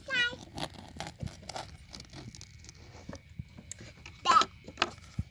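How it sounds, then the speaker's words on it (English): A knife saws through the crunchy crust of homemade Irish soda bread, giving faint, irregular crackles and crunches, with a brief louder crackle near the end and a voice speaking softly. "I'm going to cut the nice bread. So it's really crunchy from the outside."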